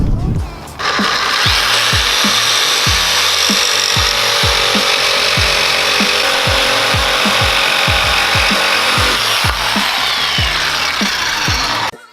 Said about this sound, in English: I'm going to be cutting them with a jigsaw.